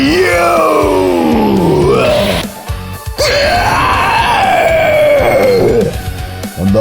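An anime monster character lets out loud, sustained, strained screams that rise and fall in pitch, two long howls split by a brief break, filling the whole stretch with no talking.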